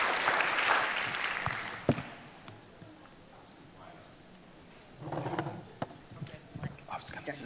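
Audience applause for a keynote speaker joining the stage, a burst of clapping at the start that fades out, then a quieter patch before scattered claps and movement return, with some voices.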